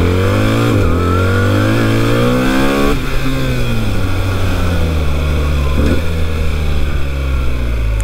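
A BMW 1300 GS Enduro motorcycle's engine pulls steadily in second gear through town, its loud, close drone rising in pitch, dropping at a shift near three seconds, then climbing and easing again.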